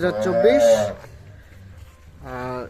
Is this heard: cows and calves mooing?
yes